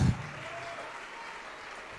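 A church congregation claps during a sermon, a brief thump at the start and then a continuous, even patter of applause held at a moderate level.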